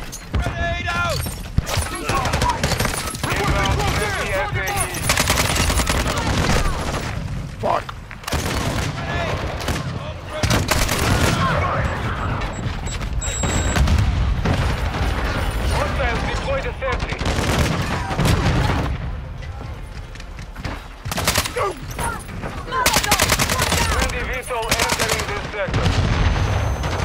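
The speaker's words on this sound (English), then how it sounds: "Throwing the gun grenade." Dense Call of Duty MW2 firefight, with loud rapid gunfire bursts, a grenade launched and detonating, and explosions crowding together in continuous clatter, while players talk over the action.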